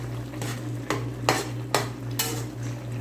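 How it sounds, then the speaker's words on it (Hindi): Chicken and tomatoes are stir-fried in a karahi, where a steady sizzle is broken by four or five sharp, close scrapes of a utensil against the metal pan at an irregular pace, with no talking. "इसको मैं भी 1 से 2 मिनट तक इसकी भुनाई करता हूँ, ताकि इसमें मिक्स हो जाए अच्छे तरीके से टमाटर"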